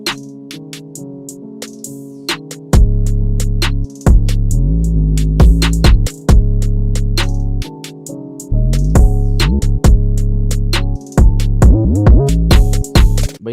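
A hard drill beat built in FL Studio 20 with a stock piano, loud and punchy, with booming 808 slides, kicks and crisp hi-hats; the 808 and kick cut out at points, leaving gaps before the low end drops back in.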